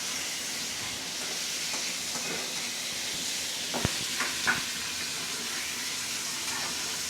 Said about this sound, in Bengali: আলু ভাজতেছি আমরা এখন।